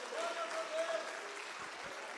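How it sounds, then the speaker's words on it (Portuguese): A church congregation claps joyfully, a steady wash of many hands at moderate level throughout, with faint tonal sounds like voices or music mixed underneath. "Palmas bem alegres para Jesus, né, irmãos?"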